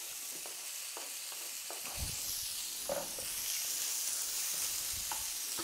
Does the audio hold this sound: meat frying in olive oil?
yes